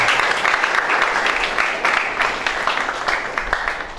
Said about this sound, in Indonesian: Boleh tepuk tangan buat Tuhan.